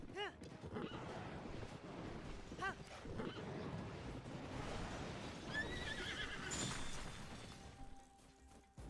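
A horse in Zelda: Tears of the Kingdom neighs loudly several times among clip-clopping hooves and game effects, under a steady wash of in-game sound.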